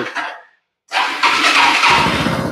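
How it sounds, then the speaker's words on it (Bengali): A second-hand motorcycle engine, a 2016 model, starts after a short sputter and pause, then catches and runs with a loud, steady close-up idle. "ইঞ্জিনের চালাও দেখাই আওয়াজ শুনি"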